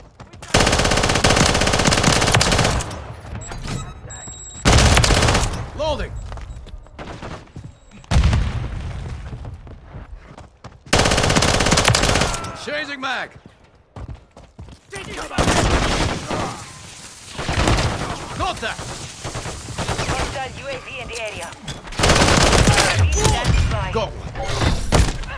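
Rapid bursts of SMG fire in a first-person shooter video game, loud and close, arriving in repeated volleys separated by short gaps, with someone talking over the shooting.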